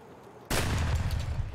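Sudden loud burst of gunfire in the video game Escape from Tarkov, a sharp onset that rolls into a sustained crackling volley close by.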